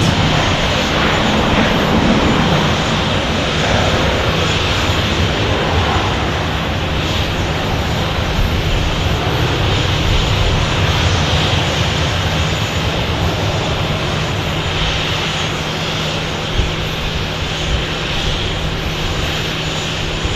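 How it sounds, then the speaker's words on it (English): A United airliner arriving from Denver roars past loudly and steadily, a broad continuous jet engine rumble and rush that stays dense throughout, with no speech audible over it. "Here's our United from Denver"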